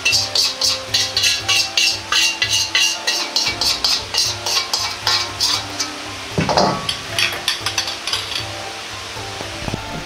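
A utensil stirs curry powder into oil in a wok for pork belly curry fried rice, a rhythmic series of quick scraping strokes over a soft sizzle, close and unvoiced, with a brief clatter near the end.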